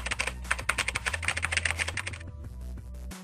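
A player name is typed on a computer keyboard as a quick, close burst of rapid key clicks, which stops abruptly near the end.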